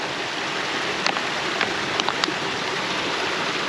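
A flowing mountain stream in Glen Affric rushes as steady, close broadband water noise, with a few brief splashes and drips standing out over the constant flow.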